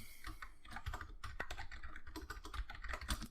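Rapid keystrokes on a computer keyboard as commands are typed into a terminal, a dense, uneven patter of close clicks running steadily for about three seconds with no voices.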